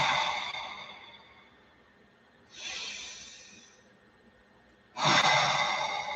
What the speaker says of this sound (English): Three more nice full inhales and exhales.